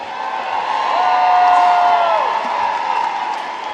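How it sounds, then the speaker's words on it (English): A crowd cheering and applauding at a Banana Ball game with the Savannah Bananas and the Firefighters, a loud, sustained roar of voices and clapping with whoops rising and falling over nearly four seconds. "Round of applause, their first game over here, the Firefighters."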